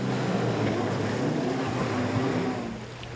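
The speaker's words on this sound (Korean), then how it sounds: "시원한 물살을 가로지르는 제트스키." A jet ski drones steadily across the sea, its low engine hum mixed with rushing spray and wind, fading slightly toward the end.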